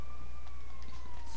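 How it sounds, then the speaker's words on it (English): An ambulance siren in the game GTA V, a steady wailing tone over a loud engine rumble, heard briefly with no talk. "Oh, there's the ambulance."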